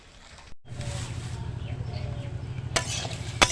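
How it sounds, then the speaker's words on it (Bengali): Koi fish and taro curry sautéed and stirred in a pan, a steady sizzle with scraping and clinking of the spatula against the pan, close by, with a brief sharper clatter near the end. "খুব সুন্দরভাবে কষাই করে নেব"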